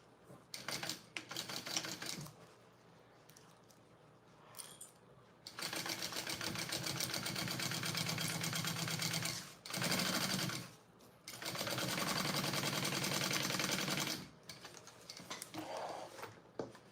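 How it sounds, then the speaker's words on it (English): Sewing machine stitching up the sides of a handmade bag, close and loud, running in long sustained bursts with brief pauses and fabric handling between them. "let's sew up these sides"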